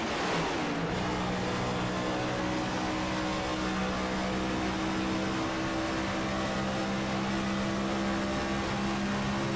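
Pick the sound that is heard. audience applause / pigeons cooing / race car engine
race car engine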